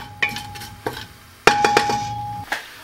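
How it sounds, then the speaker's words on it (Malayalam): A utensil stirs spices in hot oil in a pot. Distinct metallic scrapes and clinks come in short bursts, with a ringing tone between strokes, close and fairly loud, and no talk. "ഇനി നമുക്കിതൊന്ന് ജസ്റ്റ് ഒന്ന് ഇളക്കി കൊടുക്കാം"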